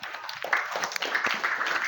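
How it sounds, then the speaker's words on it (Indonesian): Applause for a student named Maher in a coding and artificial intelligence training class: a brief burst of many hands clapping, moderately close and sustained, with no voices over it. "tepuk tangan buat Maher"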